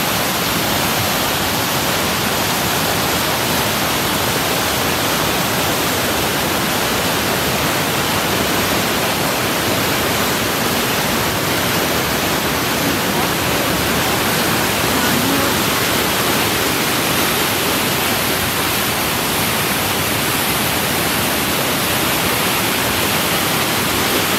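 Powerful floodwater pours through a dam near a farm during Typhoon Agaton, a constant, loud, broadband roar that holds unbroken from start to finish without any voices.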